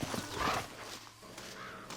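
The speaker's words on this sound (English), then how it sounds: "And the donkey!" A donkey (burro) in the Red Dead Redemption video game clip-clops in a short run of close, fairly loud hoofbeats over about a second, then a quieter patch of faint steps.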